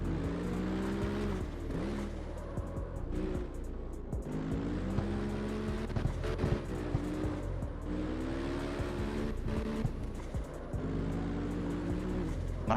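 Mercedes-AMG GT engine in CarX Street, a rear-wheel-drive grip build, droning loud and steady throughout with harmonic revs climbing and dropping through repeated gear shifts, no talking.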